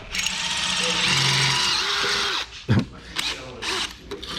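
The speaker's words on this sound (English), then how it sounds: "I gotta keep drilling" A power drill whirs steadily for a couple of seconds, then stops, followed by clunks and short bursts of mechanical noise close by, while working on a 1928 Ford Roadster.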